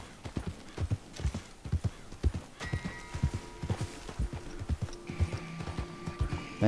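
Steady clip-clop of a horse's hooves in a video game, regular rhythmic thuds close and clear, with a whinny-like game sound and faint tonal music layered in partway through; no talk.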